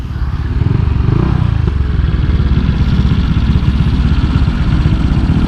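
A loud motorcycle engine with a second-generation CMS aftermarket exhaust, 63mm BRT engine build, idles close by with a deep, throaty, rapid burble from the exhaust, steady throughout.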